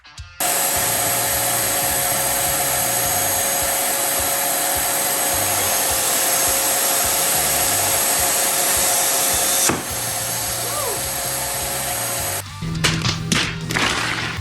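Makita corded track saw with a 165mm carbide-tipped blade ripping freehand without its track, a loud steady high whine that holds for about nine seconds, drops slightly, then stops with brief clatter at the end.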